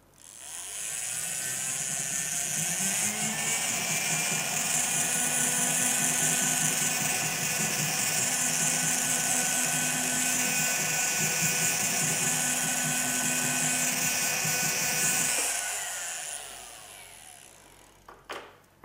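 A pendant motor whirs steadily as a needle burnisher is polished on leather, a high, even buzzing hum holding for about fifteen seconds before cutting off, followed by a couple of faint clicks.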